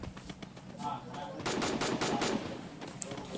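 An MP40 submachine gun in a mobile shooter video game fires a rapid burst of automatic shots, loud and continuous for about a second, with quieter game sounds around it.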